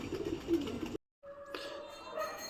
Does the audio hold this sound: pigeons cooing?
yes